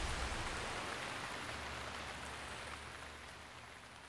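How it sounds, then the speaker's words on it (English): Heavy rain in the Breath of the Wild video game, a dense, steady hiss of falling water with no voices, holding constant and easing only slightly toward the end. "And the heavy rain stops."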